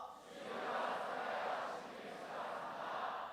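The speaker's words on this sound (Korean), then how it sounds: "두 가지 함성을 한번 크게 외치고 시작하겠습니다" An audience at the 46th CBMC Korea convention chants a slogan in unison, a loud, sustained block of many voices that swells and holds for several seconds with a brief dip partway through.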